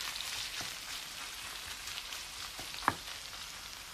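Shrimp fry in melted butter over medium-high heat, giving a steady, dense sizzle throughout with one sharp crackle near the end and no voices.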